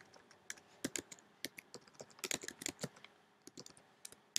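Keys on a computer keyboard are typed on a Linux machine in irregular bursts of crisp clicks, close and fairly quiet, with short pauses between clusters of keystrokes.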